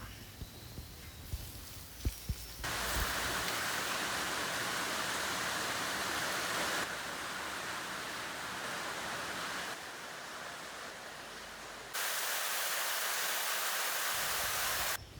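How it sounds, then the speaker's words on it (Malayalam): Heavy rain pours steadily outside a home kitchen, a dense broadband hiss that swells and drops in level across several stretches and carries on without a break. "ഇന്ന് നല്ല ഗംഭീര മഴയാണ്"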